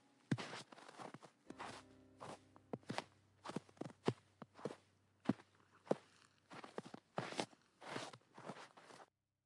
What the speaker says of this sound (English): she could hear footsteps in the snow approaching.